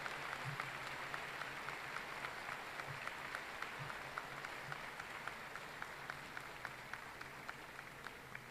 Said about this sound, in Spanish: Le renovamos el aplauso al Padre Ángel.